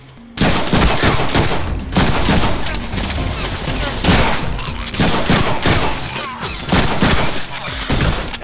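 Loud, sustained gunfire in the Deadpool video game, rapid automatic bursts and shots stacking up continuously with brief dips, close and dominant throughout.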